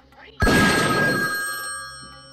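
A telephone bell from the 1973 film The Exorcist bursts in loudly as one sharp, metallic ring that lingers and slowly fades over about two seconds.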